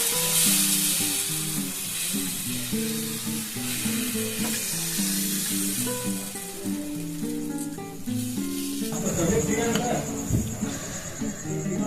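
A ladle of wheat-flour dosa batter hits a hot oiled pan and sizzles loudly and steadily, with a brief burst of crackling partway through.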